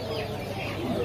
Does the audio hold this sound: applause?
no